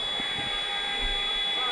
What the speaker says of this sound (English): This is the longest the buzzer has went.